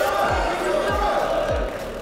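A crowd roars steadily as an athlete finishes a CrossFit Open 22.3 workout of double unders and thrusters. Continuous shouting and cheering is heard over low thumping sounds.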